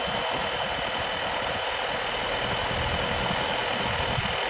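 The turbocharged engine of a truck with a fault runs roughly nearby, giving a loud, constant droning rumble with broad hiss and no speech.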